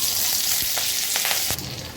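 Cumin seeds, green chilli and curry leaves crackle and sizzle in hot oil for a sabudana khichdi tempering, a steady close frying hiss broken by a few sharp spits and pops.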